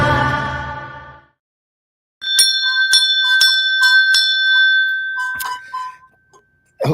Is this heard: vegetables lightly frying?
no